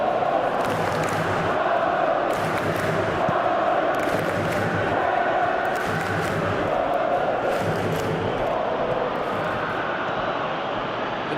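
A football stadium crowd during a Netherlands–France match roars in a constant wash of noise, swelling in several brief surges of louder cheering and shouting, with no clear single voice standing out.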